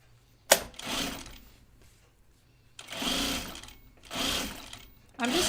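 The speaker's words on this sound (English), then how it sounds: "I'm just sewing some unfinished things." A sewing machine stitches fabric binding in a few separate runs, each a steady close hum with brief pauses between runs and no talk over it.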